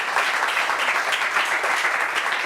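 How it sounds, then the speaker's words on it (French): An audience at a community meeting giving steady, dense applause, continuous clapping from many hands filling the whole stretch at close range. "Applaudissements pour eux, s'il vous plaît."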